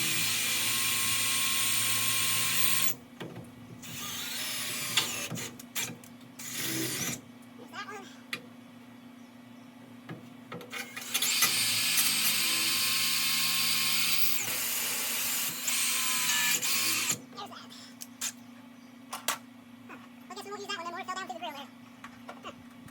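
A power drill with a 7/32 bit bores a pilot hole in a 1964 Ford F100 during a Crown Vic swap, whining in several long, loud bursts with pauses between them, while a person talks in the quieter gaps.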